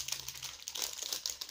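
Paper wrapping from a Christmas gift box crinkles and rustles up close in quick, irregular bursts of crackling handling noise across a short stretch.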